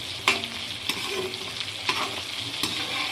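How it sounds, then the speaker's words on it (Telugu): Chicken pakoda sizzles in hot oil while a utensil stirs it, giving a dense continuous frying hiss broken by a few sharp scraping clicks of the spoon against the pan. "ఇలా బాగా కుక్ అవ్వనివ్వాలి చికెన్ పకోడీని."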